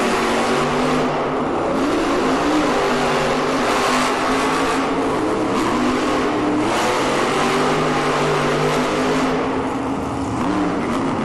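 Monster trucks racing in an indoor Monster Jam arena, engines roaring and revving loudly and continuously throughout, with a dense, steady drone that swells as the trucks accelerate.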